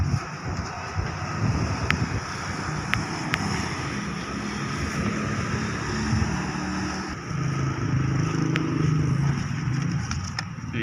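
Honda Click scooter riding on the road during a break-in ride, steady engine drone and wind noise running continuously with faint voices underneath.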